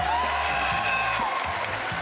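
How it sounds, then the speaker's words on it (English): E3 2019 audience at a Bethesda presentation cheering and applauding, a dense roar of crowd noise with scattered whoops, loud and sustained throughout. "the crowd seemed to just go insane over it"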